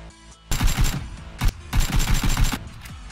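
AK rifle gunfire in the PUBG video game, loud close bursts of rapid automatic shots in two main volleys, separated by a short pause and a single sharp shot.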